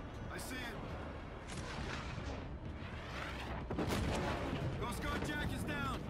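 Flak anti-aircraft fire in the Call of Duty Infinite Warfare video game, repeated booming bursts over a steady roaring background, with radio-style voices talking in between.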